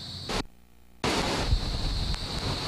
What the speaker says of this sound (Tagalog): Sa malakas na ungol ng hangin at makapal na ulap na bumalot sa kalangitan